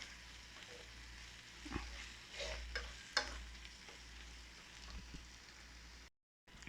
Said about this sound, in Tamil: இஞ்சி பூண்டு வாசனை போகிறது வரை நல்லா ஃப்ரை பண்ணணும்.